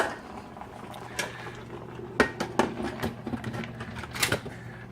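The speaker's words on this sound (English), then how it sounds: "Now you hear that bubbling over there" Turkey cooking in a GoWise 12-quart pressure cooker, soft bubbling under a low steady hum with several sharp clicks and knocks of metal, like a lid or utensil touching the pot.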